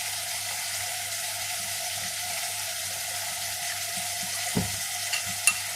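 Mutton with chili powder, turmeric, saffron, salt and coriander paste sautéing in a clay pot, a steady low sizzle and bubble throughout with a few soft stirring knocks late on.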